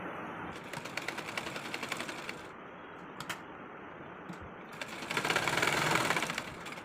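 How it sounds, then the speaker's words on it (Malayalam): A sewing machine stitches the top edge of a half-collar V-neck co-ord set garment, running as a rapid, steady mechanical whir with a brief slowdown midway and a louder, denser burst near the end. No voices. "ഇനി നമുക്ക് മുകൾ ഭാഗം ഒരു കുറച്ച് ഗ്യാപ്പ് ഇട്ട് മുകൾ ഭാഗം ഒന്ന് സ്റ്റിച്ച് ചെയ്തെടുക്കാം"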